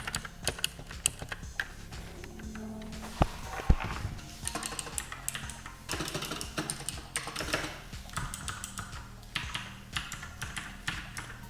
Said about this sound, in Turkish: Yalnız her tuşunda kendine özgü bir sesi var.